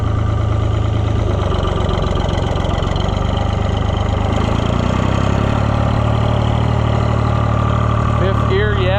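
A Cockshutt 1255 FWA tractor engine running in fifth gear, a loud, steady low diesel drone that shifts pitch slightly midway, with a voice briefly heard over it near the end.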